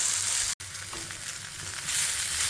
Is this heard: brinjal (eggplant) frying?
yes